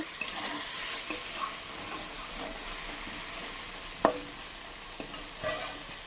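Spice paste sautéing in a pan gives a steady close sizzle and frying hiss, broken by occasional light scrapes of a spatula and one sharper clink near the end.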